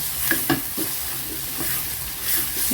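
Shelled clams being stir-fried with curry paste in a pot, a steady sizzle broken by scraping stirring strokes and occasional knocks of the utensil against the pot, close and moderately loud.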